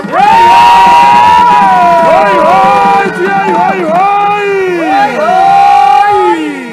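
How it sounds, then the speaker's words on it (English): A large rally crowd cheers and shouts loudly at a Democratic Alliance national rally, with sustained voices, whoops and wailing cries rising and falling over a dense crowd roar. "Let's give our governments a round of applause."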